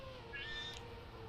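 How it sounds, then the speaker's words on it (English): A house cat gives a single short, fairly faint meow over a steady low background hum. "I'm sorry if you guys hear meowing, but the cat woke up."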